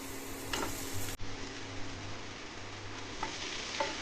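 Chicken pieces going into golden-brown onions frying in a little oil, giving a steady close sizzle with a few scraping stirs and a brief thump as the meat drops into the pan.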